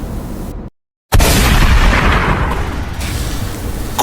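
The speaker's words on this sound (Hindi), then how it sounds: "ये गोली किसने चलाई?" A loud gunshot blast in a Hindi drama erupts after a brief moment of silence, followed by a sustained roaring boom that lingers.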